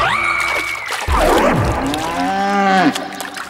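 A buffalo near a village pond lets out two long, loud, close moos, one after another, with no talk over them.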